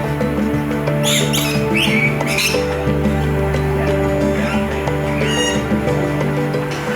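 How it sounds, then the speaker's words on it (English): Rainbow lorikeets at the Little Rock Zoo give a few shrill, scratchy squawks in short bursts over steady background music, loud and close. "rainbow lorikeets are a species that you'll find in Australia and New Zealand"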